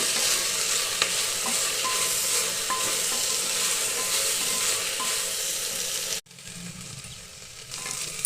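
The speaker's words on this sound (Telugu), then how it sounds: "మధ్య మధ్యలో వేయించుకుంటూ ఉండాలి బాగా వేగేంత వరకు" Okra frying in a pan while being stirred, a loud steady sizzle with scraping stirs that suddenly cuts out and then returns more softly, close and alone.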